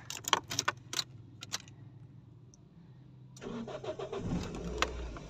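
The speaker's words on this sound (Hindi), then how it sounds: "अच्छा, तो पहले करें गाड़ी को स्टार्ट।" A Toyota Corolla GLi is started: keys jangle first, then the starter cranks and the mid-pitched engine catches and settles into a rising idle nearby, with no talk.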